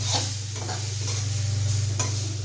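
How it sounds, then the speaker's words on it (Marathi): A spatula stirs milk into a chickpea-flour stuffing in a hot pan, with gentle scraping strokes over a quiet sizzle and a low steady hum underneath, no talking. "दूध टाकल्यानंतर एकदा खालीवर करायचं छान"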